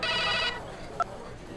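A telephone rings with a bright, steady electronic tone for about half a second, then stops, followed by quiet room tone and one short tonal blip.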